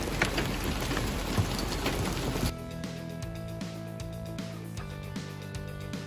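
Hail falling as a dense, hissing clatter of many small impacts on surfaces for about two and a half seconds, then giving way to a quieter scene with a low hum and soft ticks.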